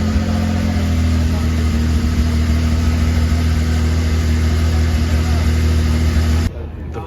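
A Bugatti Bolide's 1.6-liter V6 turbo engine with a side exit pipe runs at an outdoor Goodwood motoring event, giving a loud, steady low drone that holds for about six seconds before cutting off abruptly.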